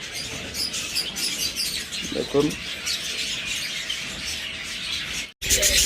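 Caged doves and budgerigars at a bird seller's chirp and tweet continuously in a busy, steady chorus, with a brief squawk and a short voice speaking partway through.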